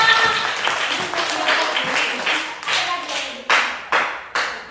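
Group clapping by children at a school event with a regional regent, steady and close, slowing into a few separate sharp claps near the end, with voices faintly underneath.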